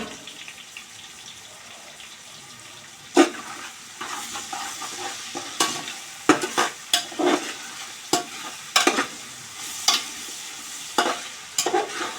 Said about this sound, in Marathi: कांदा आणि टोमॅटो पटकन शिजवली शिजावा म्हणून थोडंसं मीठ टाकलं